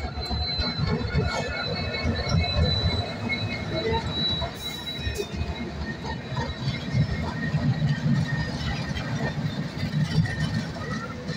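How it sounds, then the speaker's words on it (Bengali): Another train rumbles past in front of a moving Teesta Torsa Express on the NJP–Sealdah run, a steady, loud, continuous clatter of wheels and cars that lasts the whole stretch without pause. "সামনে দিয়ে আরেকটা দেখছি ট্রেন পাস করছে"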